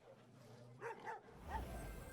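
Dogs bark when a dog card is played in the Gwent card game, three short yelping barks in quick succession over a low game hum.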